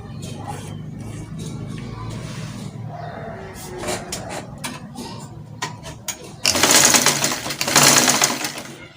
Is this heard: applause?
no